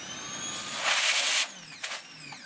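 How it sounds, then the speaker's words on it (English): A pressure washer feeding a cheap undercarriage washer on snowy ground, a loud steady hissing spray that swells, then cuts off abruptly with a brief second burst. "Hit your pressure washer."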